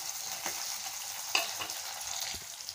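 Onions and garlic cloves saute in a pan with a continuous soft sizzle and occasional light stirring scrapes, close but fairly quiet, with no talking.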